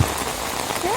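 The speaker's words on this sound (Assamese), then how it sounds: "বৰষুণ বেছি আহি আছে" Heavy rain pours down on an open road as a dense, steady hiss of drops that fills the whole moment, close and loud, with no voices.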